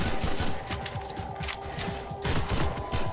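Dense, continuous volleys of rapid gunfire in the Half-Life 2 MMod video game, loud and close throughout with overlapping shots and no talk.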